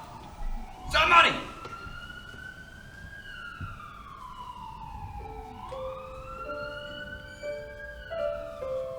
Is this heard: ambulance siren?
yes